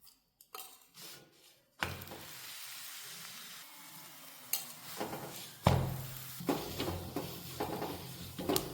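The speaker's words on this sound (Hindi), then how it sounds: "यहाँ पे मैंने ले लिया घी और इसको बढ़िया से सेक के तैयार कर लेंगे" Puri frying in ghee for a Rajasthani Sheetla Ashtami offering, a soft hiss and sizzle that builds after a quiet start, broken by scraping clatters of a ladle against the pan and a louder burst of bubbling near the end.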